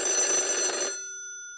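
An old-fashioned telephone bell rings in a short bright burst and then cuts off, leaving a fading metallic hum, part of a school radio drama with no talking during the ring.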